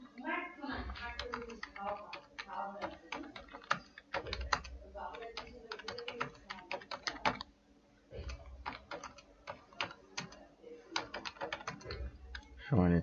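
Computer keyboard typing in rapid, uneven bursts of clicks while someone talks over it throughout, the keystrokes close and fairly loud with short pauses between runs.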